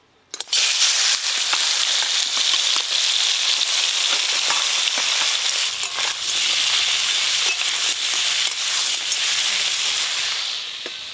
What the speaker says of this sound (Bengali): কাঁকড়া আর কাঁকড়ার দাঁড়া একসঙ্গে ভেজে নেব।